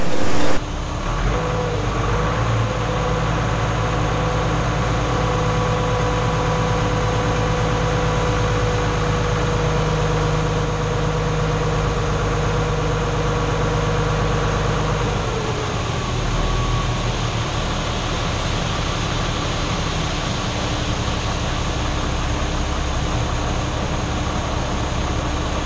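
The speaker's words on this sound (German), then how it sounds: "hier kann man jetzt sehen, wie die Schnecke das an den Seiten wegnimmt und dann hier in die Mitte fördert" A new combine harvester runs steadily, its auger drawing crop in from the sides toward the middle under a constant loud mechanical drone and hum that holds for the whole stretch, with a slight change in tone about midway.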